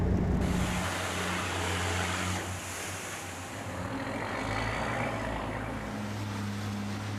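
An armored amphibious combat vehicle launches from a ship's well deck into the sea, giving a steady loud engine drone and rushing water and wind noise with low tonal hum shifting partway through, no voices.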